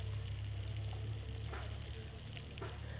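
Bone-in chicken pieces fry in hot oil with onion and masala, giving a steady, soft sizzle close by with faint stirring scrapes.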